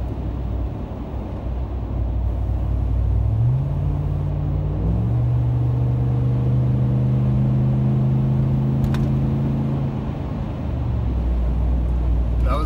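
A 2017 Ram 1500 Hemi V8 fitted with a Carven Competitor muffler revs up from a low rumbling idle, holds a steady deep drone at about half throttle for several seconds, then drops back to idle.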